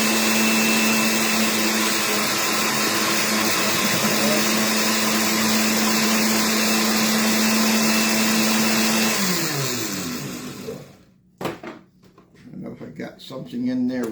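Blender pureeing cantaloupe melon, a loud steady whir with a constant motor whine that runs for about ten seconds, then cuts off abruptly and leaves a person talking.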